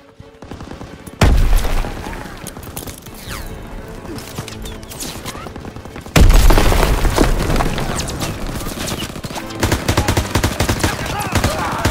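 Machine gun fire from a hayloft MG in a Call of Duty WWII D-Day battle near a farmhouse, with loud bursts of rapid automatic shots. Booming impacts from beach shelling and other gunfire surround it, and it grows louder partway through.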